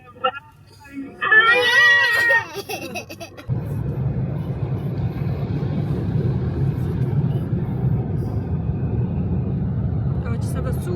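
Car wash blowers drying a car, a steady loud roar of rushing air that starts abruptly and runs on, after a brief burst of a voice at the start.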